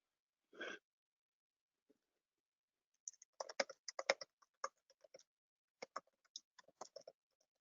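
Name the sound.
typing on a computer keyboard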